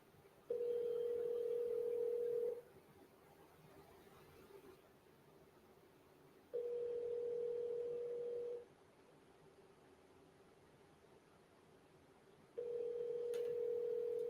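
A telephone ringback tone sounds three times in a steady pattern, each ring lasting about two seconds with roughly four seconds of quiet hiss between, while an outgoing call waits before reaching voicemail.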